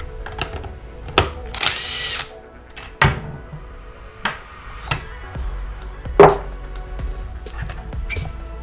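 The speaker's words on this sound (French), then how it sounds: "pour enlever la cloche d'embrayage, nous on utilisera une clé à choc avec une douille de 15" An impact wrench works on a scooter clutch bell through a 15 mm socket, firing in short loud bursts and rattling hits separated by pauses, with clinks of tools and parts nearby.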